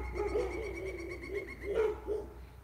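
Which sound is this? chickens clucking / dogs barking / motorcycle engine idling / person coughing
dogs barking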